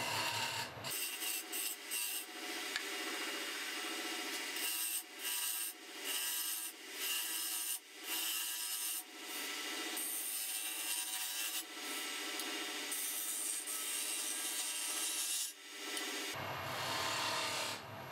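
A wooden flour scoop is profiled on a wood lathe, with a tool steadily rasping and scraping the turning wood in long strokes broken by brief pauses, close and continuous.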